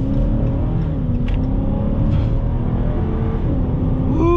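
A 2021 Chrysler 300S with a 5.7-liter Hemi V8 accelerates hard, its engine note climbing steadily as revs rise through the gears, loud and close from inside the cabin with no talking.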